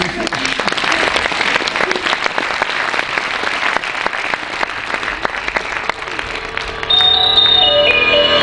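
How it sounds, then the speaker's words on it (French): Audience applause at the end of a stage show, sustained dense clapping from a crowd that carries on steadily, with a tonal music cue rising near the end. "Et sur vos applaudissements."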